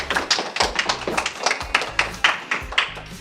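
A small group in a sports changing room claps for a youth team on the bench, with sharp uneven hand claps and thuds close by, loose and sparse rather than a steady roar.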